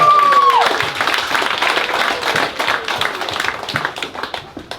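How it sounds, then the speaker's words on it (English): Wedding guests applaud after a heartfelt speech. The clapping starts strong and then thins and fades over a few seconds, with scattered individual claps standing out near the end. A brief tone sounds at the very start. "Round of applause for her beautiful public speaking."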